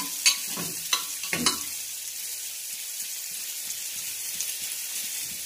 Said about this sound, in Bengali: পেঁয়াজটা বেশি ভাজবো না, শুধু পেঁয়াজটা লালও হবে না